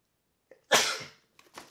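A single sharp, close sneeze bursts out after a short inhale, then tails off, followed by a couple of faint breaths.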